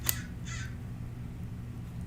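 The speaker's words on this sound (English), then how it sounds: "There's the biggest crow sitting right there." A large crow perched close by gives a short caw, then a second, longer harsh call, both standing out briefly over a steady low background rumble.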